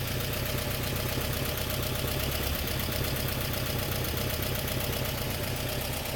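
A 1979 Subaru 4WD wagon engine idles loudly up close, a steady low rumble with a fast, even mechanical chatter running through it and no one speaking.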